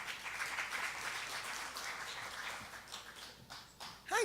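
An audience at a church service applauds, a dense, moderately quiet wash of clapping hands that holds steady, then thins into scattered claps near the end.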